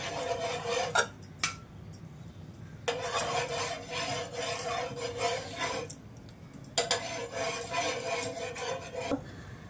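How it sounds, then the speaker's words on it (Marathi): Oil is spread over a hot iron griddle for moong chilla, a scraping, rubbing rasp of utensil against metal in two sustained close bursts with quieter sizzling gaps between. "तेल लावून घेऊया।"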